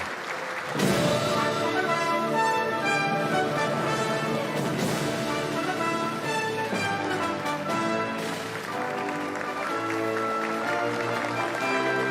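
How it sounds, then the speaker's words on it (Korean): A large crowd applauds steadily as four presidents enter the rotunda hall for a presidential inauguration oath ceremony, the clapping sustained under music throughout. "큰 박수로 환영해 주시기 바랍니다"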